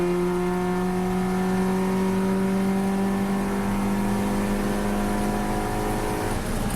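Audi TT engine on a race track holding a steady, loud drone with a slowly rising pitch as it pulls through the gears, continuous and close throughout, with no talk.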